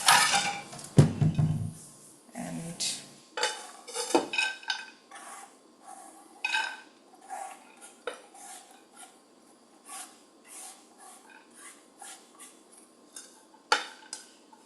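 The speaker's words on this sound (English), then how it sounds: "transfer my vegetables on a plate" Cooked vegetables, carrots and onions, scraped and spooned onto a plate while dinner is prepared at home, giving a string of light clinks, taps and scrapes, close and fairly quiet, with no talking.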